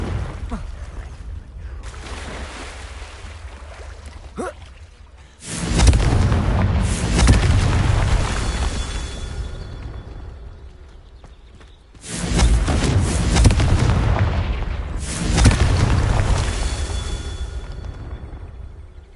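Confringo fire spell explosions in the video game Hogwarts Legacy: two heavy booming blasts, each followed by a rumbling tail that fades slowly, over a quieter ambient bed.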